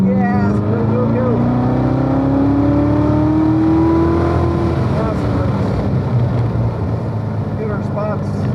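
Race car on the VIR Grand Course, its engine droning loudly and steadily throughout with a rising pitch sweep as it accelerates, a voice talking over the engine noise.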